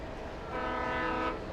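A train in the Alan Wake video game sounds a loud, sustained horn over the rumble of rolling rail cars, with the horn rising midway and holding to the end.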